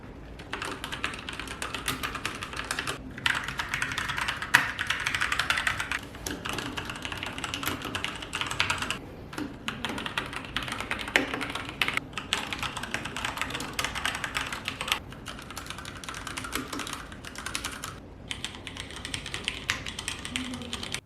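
Fast, continuous typing on several mechanical keyboards makes crisp, clattery keystrokes in steady bursts, with brief pauses between runs, close and alone.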